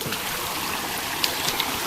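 A waterfall stream at Si Lan Falls near Si Racha, Chonburi, Thailand, rushes steadily and close, a broad even wash of flowing water with a few brighter splashes, no voices.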